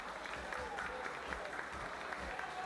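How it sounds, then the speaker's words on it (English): A crowd claps steadily for women entrants in a costume contest at a Whiskerino event, a dense, even wash of applause kept up throughout without a break. "how about a round of applause for these ladies?"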